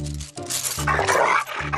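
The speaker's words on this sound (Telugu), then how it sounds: "ఇది కరిచే కుక్క అస్సలు అరవదు" A dog in a comedy film scene lets out a few loud, close barks or growling yelps in rhythmic bursts, roughly three in under two seconds, with no talk over them.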